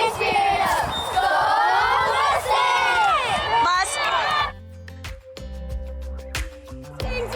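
A school rally crowd cheers and yells loudly, many overlapping shouting voices for about four seconds before the noise cuts to a quieter stretch of scattered sounds and clatter.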